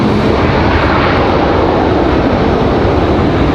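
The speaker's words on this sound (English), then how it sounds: "Nice touchdown for Delta from Washington." A Delta airliner arriving from Washington touches down on the runway at Raleigh-Durham International Airport, a loud, continuous broadband engine and rush roar throughout, close and steady.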